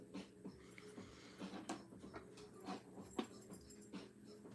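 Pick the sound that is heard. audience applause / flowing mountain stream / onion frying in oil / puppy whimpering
puppy whimpering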